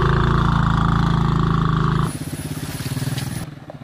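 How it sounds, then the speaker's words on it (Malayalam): ATV quad bike engine running close by, a loud steady buzzing drone that drops to a lower throbbing idle halfway through. "അപ്പം ഇനി അടുത്തത് എ ടി വി ബൈക്ക് ഓടിക്കാനൊരു തയ്യാറെടുപ്പിലാണ്."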